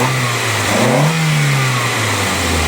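A Nissan 200SX engine revs up and settles back, loud and close, its tone rising and easing over a steady running hum with no voices.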